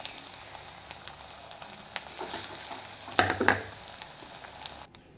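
Spiny gourd (kankrol) fritters fry in hot oil with a steady, close sizzle, and a louder scraping stir stands out near the end as more fritters go in.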